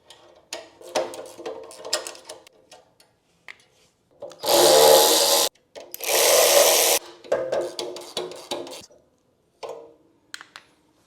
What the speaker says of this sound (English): Some of them we can access with power tools,